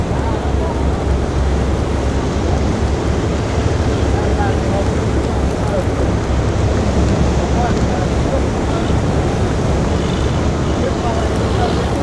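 Water rushes continuously where the Mekong River pours out below a dam, a loud, dense roar blended with wind buffeting the microphone and the hum of a passenger boat, steady with no breaks.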